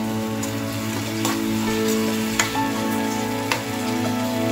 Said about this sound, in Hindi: अब उस प्याज को डालकर इसको हल्का सा दो सेकंड के लिए फ्राई करेंगे